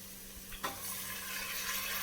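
Mutton dropped into a pan of sautéed masala and fried onions, a soft thump then a steady close sizzle that builds and continues under faint kitchen background.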